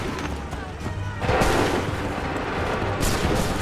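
Gunfire in Assassin's Creed III, a volley of musket or rifle shots cracking together into a loud, sustained roar, with a second burst near the end and faint voices underneath.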